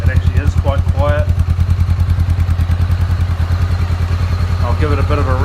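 A 2017 Honda CBR500R fitted with a Delkevic 200mm aftermarket exhaust idles steadily close by, a low, even, fairly quiet throb with a voice talking over it.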